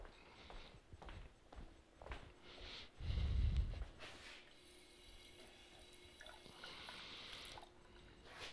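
Water is poured for a drink during a lecture, a short gurgling splash in the middle, surrounded by quiet handling noises and faint room sounds.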